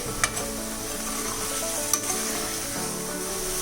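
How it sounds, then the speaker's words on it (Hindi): Tandoori chicken being stirred into cooked tomatoes in a hot pan, a steady close sizzle and frying hiss with two sharp utensil scrapes against the pan. "अब इसमें हम डालेंगे तंदूरी चिकन और उसको मिक्स करेंगे"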